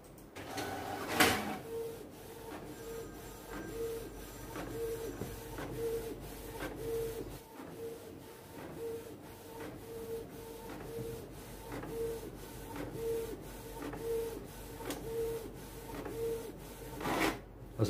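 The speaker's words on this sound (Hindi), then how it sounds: "पाकिस्तानी फ्लैग प्रिंट किया है" A new home printer running as it prints a Pakistani flag: steady mechanical whirring with regular rhythmic clicks and passes, fairly close, with a sharp clack near the start and another at the end.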